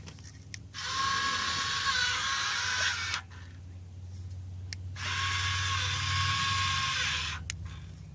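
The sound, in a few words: power tool loosening bolts on Mustang exhaust cutouts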